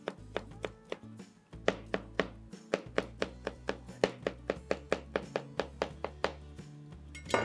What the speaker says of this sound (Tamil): இந்த கேப்சிகமை இது மாதிரி பொடிசாக நறுக்கிங்க